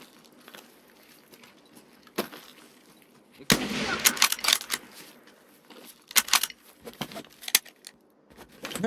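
Gunfire in Escape from Tarkov, several sharp bursts of shots with clattering impacts, loud and close against a quiet background.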